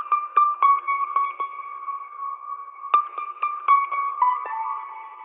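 A short melody of plucked guitar notes passed through EQ and effects, with the lows and highs cut and the mids boosted, ringing in a thin mid-range tone with echoing tails; a brief phrase, a pause, then the phrase again.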